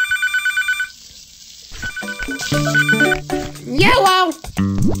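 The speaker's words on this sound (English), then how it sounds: "Phone!" A telephone ringtone in the Papa's Pancakeria cooking game, a bright repeating electronic ring pulsing several times, then excited talk and lively game sounds crowd in after it stops.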